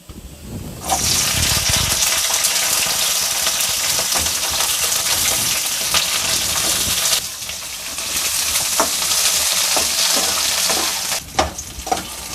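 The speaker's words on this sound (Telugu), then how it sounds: "చూడండి, పచ్చిమిరపకాయలు ఇలా వేగినాయి కదా." Green chillies fry in oil in a pan with a loud, continuous sizzle and occasional stirring scrapes. The sound breaks briefly midway and again near the end.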